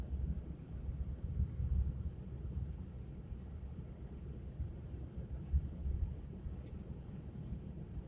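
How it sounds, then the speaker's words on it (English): Low, steady rumble of wind buffeting the microphone and a car in the South Dakota Badlands, with gusty surges and a few bumps; no one speaks. "It's a little windy out here. It's shaking the car and shaking the camera, shaking everything."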